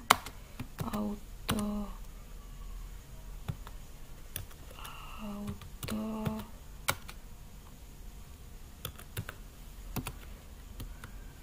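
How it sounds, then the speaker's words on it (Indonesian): Keystrokes on a computer keyboard come in short bursts of sharp clicks, close and fairly quiet, with a voice talking softly between them. "Lalu kita ketikkan di sini no"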